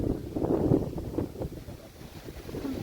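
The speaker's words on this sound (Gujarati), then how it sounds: "ઉગમણથી આવે છે પવન" Wind blows steadily across the microphone with a low, gusty rumble, fairly faint and without talk.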